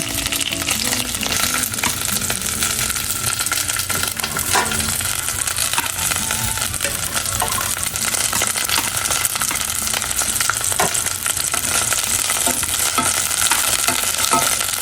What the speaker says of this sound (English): I think my chiles were still a little wet. That's why there's a lot of splattering going on.